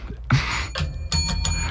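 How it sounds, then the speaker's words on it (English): Bell struck a few times in a row, bright ringing tones that sustain and overlap, close and fairly loud. "Great bell."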